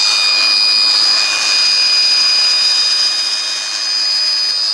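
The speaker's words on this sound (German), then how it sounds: "habe ich jetzt beispielhaft mal eine Flex, die neueste Version. Natürlich heute alles mit Akku betrieben." A new cordless 18-volt brushless Flex battery angle grinder runs continuously at high speed, a loud, steady, close whine with strong high tones and a slight dip in level partway through.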